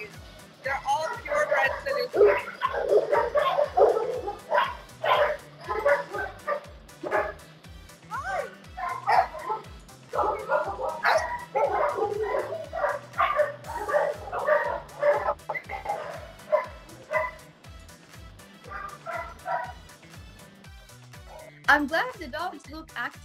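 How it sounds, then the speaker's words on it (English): Several purebred Saluki dogs bark in a kennel setting, a steady run of repeated barks and yips across the whole stretch, close and fairly loud, mixed with a busy background of voices. "They're all purebred Salukis."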